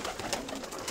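Pigeons coo softly outdoors at a pigeon-flying gathering in Galanada, Kozani, their faint, repeated murmuring calls blending together over a brief moment.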